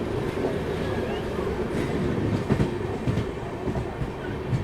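Ala Hazrat Express running from Bareilly to Bhuj rolls past in a steady, close rumble with faint wheel clatter throughout, loud and continuous with no pause.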